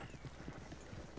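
Horse hooves clip-clopping in the video game Red Dead Redemption 2, a quiet, steady series of hoofbeats at a walking rhythm, with a slightly louder strike at the end.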